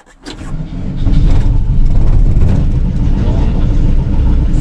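A cold Volkswagen T3 van engine cranks briefly, then catches and settles into a loud, steady idle that runs on close by.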